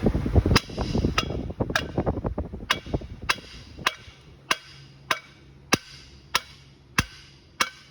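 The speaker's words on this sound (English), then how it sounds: "Grab the actual hammer. All right. Metal hammer, not dead blow. Yep. Go ahead and kind of tap on it." Sharp metallic taps from a metal hammer striking a Ram 1500 suspension part, first busy and clustered, then spaced out into a slow, steady series of single ringing hits.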